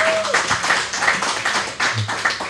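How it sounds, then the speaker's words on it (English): Scattered clapping from a live crowd at a pizza venue, with individual hand claps standing out in an uneven, moderately loud patter and a few voices calling out. "By your applause, will you vote no on Amendment 3?"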